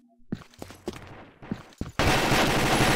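Video game gunfire from a Combat Arms match: several sharp separate shots over the first two seconds, then a dense continuous burst of rapid fire fills the end, loud and close.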